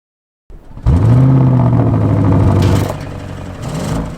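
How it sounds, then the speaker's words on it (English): An Audi RS7's V8 with sports exhaust starts up and roars loud and close, holding a deep steady growl before easing off and swelling again. "you'll just want to sit back and listen to that V8 engine growl"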